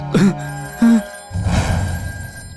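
An electronic phone ring sounds in two short bursts, then gives way to muffled background noise and a low murmur.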